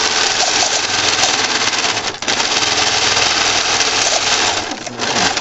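A sewing machine runs in a fast, steady mechanical whir, stitching an extra seam pass on a fabric reusable sandwich bag; the motor pauses briefly midway and then resumes, loud and close.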